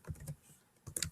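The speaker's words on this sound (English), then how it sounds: "I'm going to type in a new function." A brief patter of keystrokes on a computer keyboard while a function is typed into GeoGebra, a few close clicks at the start and a quick cluster at the end.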